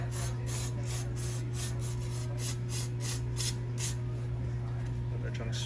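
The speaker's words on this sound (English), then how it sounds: "once I spray these down" Rapid bursts of aerosol brake cleaner hiss in quick succession, close up, sprayed onto a wheel's disc brake, over a steady low hum.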